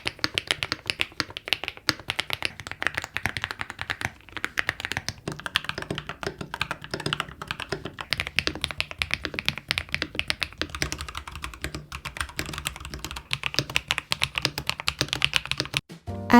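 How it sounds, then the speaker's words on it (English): Rapid, crisp clicking keystrokes from a clicky keyboard run in steady bursts of typing, close and fairly quiet, with brief pauses between runs. "feels great to type on because it has a satisfying click sound"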